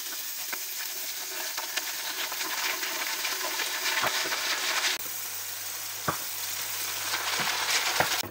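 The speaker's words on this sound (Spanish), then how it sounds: "empezamos a echar todo lo que tenemos aquí. El ajo, la cebolla y el pimiento." Chopped garlic, onion and pepper fry with seared chicken in a hot pan, a loud continuous sizzle with occasional stirring scrapes and clinks close by.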